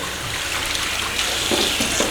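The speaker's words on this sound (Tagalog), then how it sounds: "Hugasan natin maigi para hindi man mag-amoy." Tap water runs steadily and loudly over meat being washed for bopis, a broad continuous gush with faint splashing and no talk.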